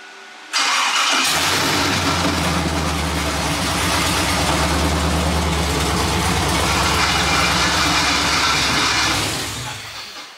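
A Ford Mustang Mach 1 engine cranks and catches, then runs loud and steady with a rough idle rumble for several seconds before cutting off; suspected loose flex plate bolts.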